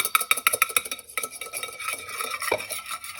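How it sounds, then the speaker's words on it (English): Ingredients are whisked in a bowl, producing rapid rhythmic clinking and scraping strokes that slow and soften toward the end, close and clear with no talk. "I'm going to whisk those together"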